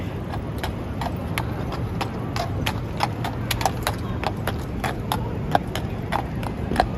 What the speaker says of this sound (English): Oh, the horse is here.